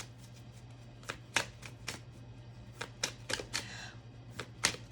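Close, crisp riffling and snapping of Flower Petals affirmation cards being shuffled and drawn, a series of quick irregular card slaps and flicks in a quiet room.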